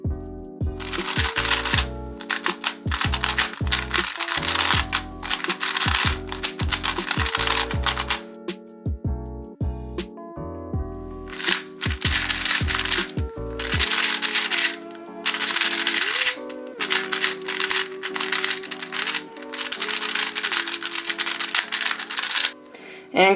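Clicky, rattling turns of an MF3RS V2 speedcube before lubing, dense bursts of rapid plastic clacks in quick runs with brief pauses, close and fairly loud, with no talking.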